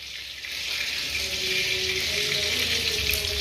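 Food frying in a pan, a steady close sizzle with faint watery crackle that holds constant throughout.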